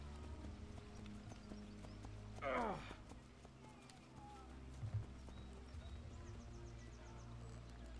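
A horse in Assassin's Creed Brotherhood clip-clops softly under a quiet game backdrop, with a short, clear whinny about a third of the way through and a faint snort later.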